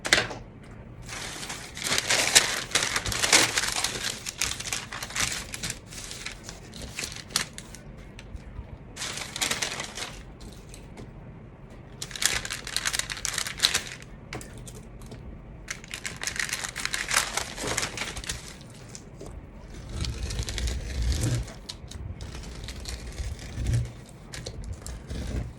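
Scissors snip through a paper skirt pattern in repeated bursts of crisp cutting and paper rustling, close and fairly loud, with short pauses between runs of cuts.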